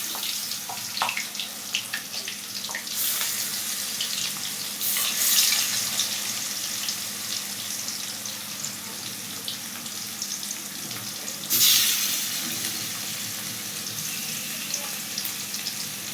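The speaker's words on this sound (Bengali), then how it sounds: "তো এই হচ্ছে মাছগুলোকে ভেজে নিচ্ছি।" Fish pieces frying in a large wok, a steady hissing sizzle, with louder bursts of crackle at two points, close up and with no one talking.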